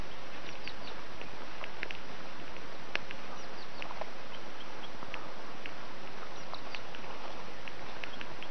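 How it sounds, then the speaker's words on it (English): Birds call around a camp, several scattered chirps and short calls from various directions over a faint steady background hiss, with no one talking. "Nice all the bird sounds as well."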